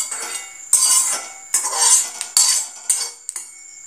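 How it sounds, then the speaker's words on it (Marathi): A spatula or ladle scrapes and clinks around a hot wok as oil is spread over it for noodles. Several close metallic scraping strokes come in uneven bursts, with no talking. "कढई तापलेली आहे आपली आणि हे तेल असं जरा सगळीकडे पसरवून घ्यायचं"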